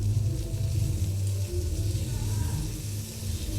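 Chopped tomatoes going into a pan of frying onions and garlic paste, with a steady, close sizzle and low crackle running throughout, no talking.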